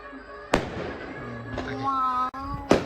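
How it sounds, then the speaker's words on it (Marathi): Firecrackers bursting at a night village fair (yatra), with three sharp cracks spread over a few seconds amid crowd chatter and background voices. "फटाके फुटायला लागले म्हणजे आपला रथ पोचलाय"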